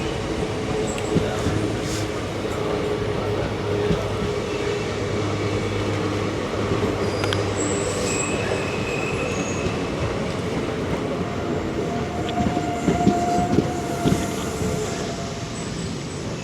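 A train pulls into Neyyattinkara railway station on the Thiruvananthapuram–Nagercoil line: a steady, close rumble of wheels and carriages, with faint squeals and clatter over the track and no talking.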